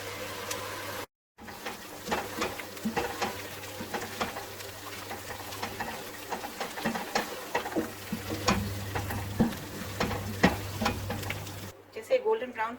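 Chicken handi base frying in a pot for several minutes until lightly golden, a steady soft sizzle with scattered scrapes of stirring, fairly quiet and close, with a low hum running underneath.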